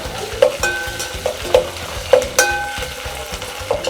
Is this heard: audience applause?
no